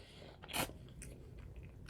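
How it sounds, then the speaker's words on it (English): A single crisp crunch comes as someone bites into a toasted grilled cheese sandwich, followed by a few faint chewing sounds in a quiet room. "That's the sign of a good grilled cheese sandwich. Did you hear that crunch?"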